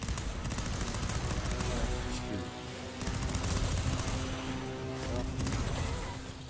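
Shotgun enemies in the action game Fury Unleashed fire in a dense, continuous clatter of blasts over a loud buzzing game soundtrack, close and relentless with no talk.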